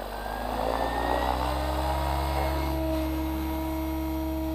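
A Goblin 500 radio-controlled helicopter hovers outdoors close by, giving a steady high-pitched motor whine with strong sustained tones and a faint shift in pitch partway through.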